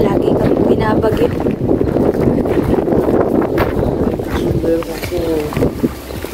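Strong wind roars and buffets the microphone outdoors near Trondheim's old town bridge, a loud, constant rush with gusty swells, while voices murmur faintly underneath.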